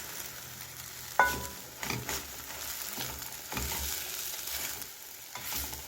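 A vegetable egg omelette sizzles in a pan, a soft steady frying hiss broken by a sharp clink and scraping stirs as it is pressed down.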